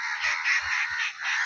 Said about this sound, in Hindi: आज कौवा बहुत बोल रहा है।